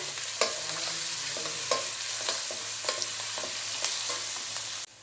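Onions fry in hot oil with a steady, close sizzle for about five seconds, broken by several sharp scrapes and taps of a spoon stirring the pan, with no voices.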